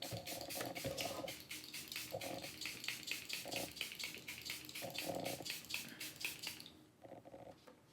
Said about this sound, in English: So we're gonna apply a few sprays.